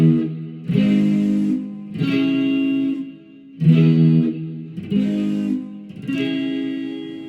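Electric guitar run through effects with light distortion and chorus strums a progression of sustained chords, each change flowing smoothly into the next across about seven seconds, close and fairly loud with a reverberant tail and no voices.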